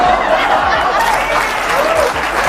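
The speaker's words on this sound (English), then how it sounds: "Terrible that you would applaud that." Audience applause fills the room steadily for the whole stretch, a dense wash of clapping with a few scattered chuckles mixed in during a live comedy talk show.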